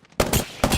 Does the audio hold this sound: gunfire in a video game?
yes